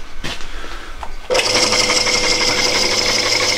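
A Harbor Freight bandsaw with a failed gearbox switches on after a quiet moment, its motor settling into a steady, loud hum while the blade stays still.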